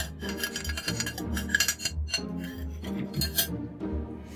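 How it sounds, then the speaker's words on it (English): A spoon scrapes and rasps around a bowl as sugar is mixed into brownie batter, a steady gritty rubbing with occasional light clinks against the bowl. "Now we will add the last bit of sugar as well and mix it all together."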